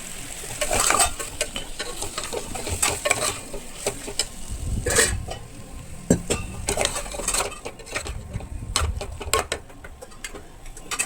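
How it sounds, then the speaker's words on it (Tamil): Mutton and potato curry is stirred in a pot, a spoon clicking and scraping against the metal in irregular, close taps over a low, continuous sizzle, with no talking. "அதையும் சேர்த்து நல்லா மிக்ஸ் பண்ணி வேக விடுங்க"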